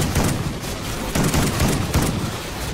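Bursts of rifle fire from an SVU in Call of Duty: Ghosts chaos mode come in several heavy, booming shots spaced about half a second apart, loud and close over constant background battle noise.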